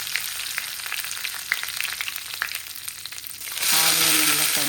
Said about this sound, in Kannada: ಸಾಸಿವೆ ಸಿಡಿಯೋಕ್ಕೆ ಸ್ಟಾರ್ಟ್ ಆದಮೇಲೆ ಕರಿಬೇವು ಹಾಕ್ಕೊತಿದ್ದೀನಿ